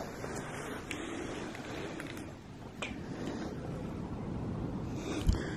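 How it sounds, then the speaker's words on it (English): Strong wind blows outside an abandoned farmhouse at midnight, a steady low rushing roar with gusty buffeting and a few soft knocks, heard from indoors. "Pretty lot of wind outside, actually."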